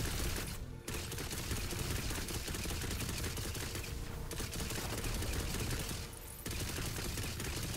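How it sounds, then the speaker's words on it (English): Video game gunfire in Tiny Tina's Wonderlands comes as dense, continuous rapid shots and bursts, loud and unbroken apart from a few brief gaps. "Just yeet bullets around and hope for the best"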